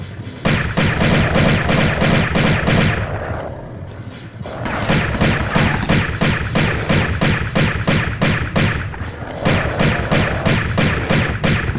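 Enemy gunfire in the Tomb Raider 1 Remastered video game, a loud, rapid string of sharp shots that keeps going with a short pause partway through.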